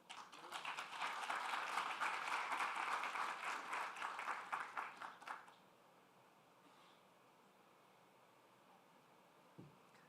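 Audience applause at a trade development forum afternoon session, a dense steady clapping for about five seconds that cuts off abruptly into quiet room tone, with a faint thump near the end.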